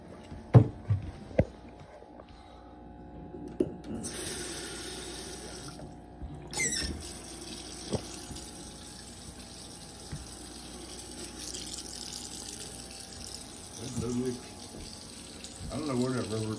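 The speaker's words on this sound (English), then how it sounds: "Turn your water on." Water runs from a tap into a sink in a steady rushing stream over a long stretch, broken by intermittent clunks and knocks of handling pipes and fittings, with the flow briefly cutting off partway; close and moderately loud.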